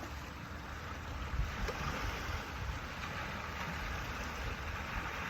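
Ocean waves washing in as a broad, steady rush of surf with light wind noise, continuous and unbroken throughout with no voices.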